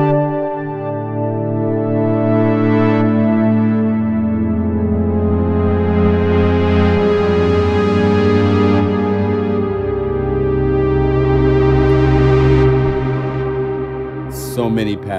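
Eerie synth pad from a scary Diva patch library, with sustained layered tones that swell and shift slowly, droning loud and alone for the whole stretch with a brief glitchy burst at the end.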